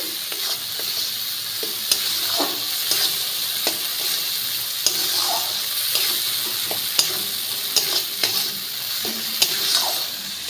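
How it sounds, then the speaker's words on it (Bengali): Spice paste sautéing in a hot pan for a Kashmiri paneer curry, a steady sizzle broken by repeated scraping stirs and light clinks, close up and with no talking. "এই মশলাটা দিয়ে দিচ্ছি পুরোটাই মশলাটাকে সুন্দর করে কষিয়ে নিচ্ছি"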